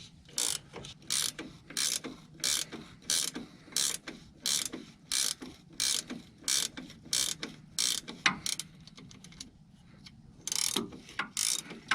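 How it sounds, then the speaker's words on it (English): An 18mm ratcheting wrench loosens a front shock absorber bolt, giving a close, steady run of sharp metallic clicking bursts, about two per second, alone with no talk, pausing briefly near the end before resuming. "This is an 18mm ratcheting wrench."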